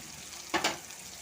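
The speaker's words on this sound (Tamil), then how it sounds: "இந்த வெங்காயம் கருவாடு இது வேகும்போது அதில் உடஞ்சாலுமே டேஸ்ட்டாக தான் இருக்கும்" Onion and dried fish cooking in a pan, a low steady sizzle interrupted by two quick stirring scrapes near the middle, close and brief with no talking.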